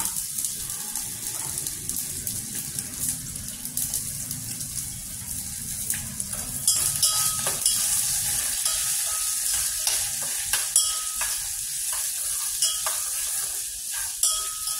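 Onions and curry leaves fry in a pan over medium heat, giving a steady, close sizzle with occasional stirring scrapes throughout, and no voices.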